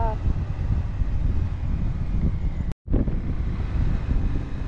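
Cold wind blowing on a paved mountain road near Manang, Nepal: steady, loud, roaring wind buffeting the microphone, broken by a brief moment of silence.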